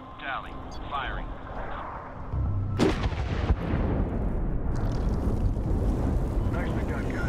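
Heavy gunfire and booming blasts in the Medal of Honor (2010) video game roll out in a dense, loud barrage with a deep rumble underneath, while voices talk over the combat.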